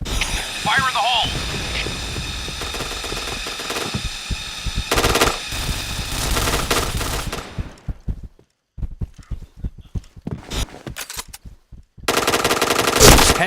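Automatic machine-gun fire from a video game shooter played at an internet cafe: dense, loud rapid bursts fill the opening eight seconds, then scattered shorter volleys with brief gaps, and heavy sustained fire resumes near the end.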